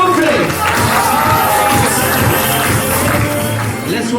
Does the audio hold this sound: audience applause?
yes